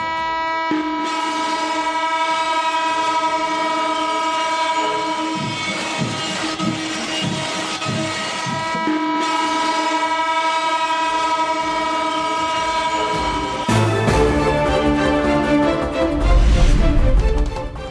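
An Amrit Bharat express train in India sounds its horn in long, loud, sustained blasts over the rumble and clatter of rolling wagons. A sharper horn burst comes near the end.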